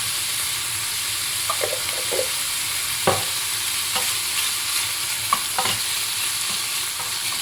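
Small cuttlefish sizzling in a hot pan, a steady frying hiss with occasional stirring scrapes and pops, close and moderately loud.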